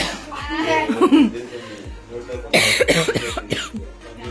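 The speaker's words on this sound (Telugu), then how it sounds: "ఎందుకు దగ్గు వస్తుంది తెలియదు" Coughing at a family birthday party at home: several harsh, close coughs in short bursts, mixed with chuckling and talking voices nearby.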